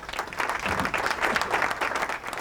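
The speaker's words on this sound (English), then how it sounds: "A big round of applause for him." An audience at the opening ceremony of an idol singing contest applauds warmly, a thick even wash of clapping that holds steady before tapering slightly at the end.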